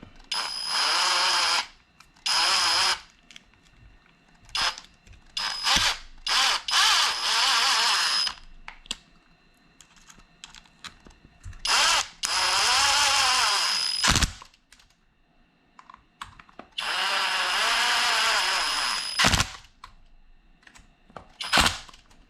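A power driver tightens transmission cover screws on an Arrma Vendetta RC car in repeated short whirring bursts with clicking stops between them, close and loud, with no talking.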